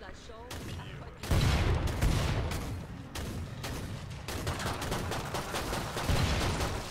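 Automatic weapon fire in the video game Killing Floor 2 comes as loud, dense, sustained bursts that pause briefly between volleys, with a voice talking at times.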